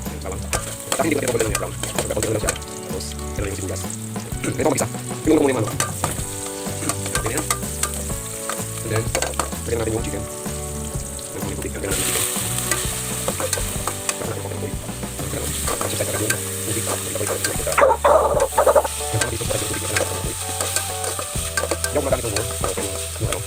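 Ginger and garlic fry in a little cooking oil in a home kitchen, a steady sizzle with stirring scrapes and clinks running throughout, fairly close. A few louder bursts come near the middle and end, and other background sound sits faintly underneath.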